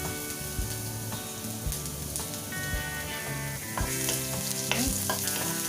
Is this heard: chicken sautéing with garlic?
yes